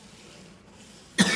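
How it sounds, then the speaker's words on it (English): A single sharp cough bursts out near the end, following a stretch of quiet room noise. "Sorry about coughing."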